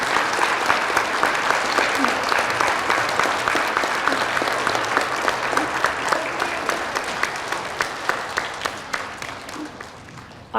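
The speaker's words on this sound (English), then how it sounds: "Boys and girls, please thank them with a round of applause for their service" A school assembly crowd at an elementary school's Veterans Day recognition gives veterans a steady round of applause, dense clapping holding for about ten seconds before tapering slightly at the end.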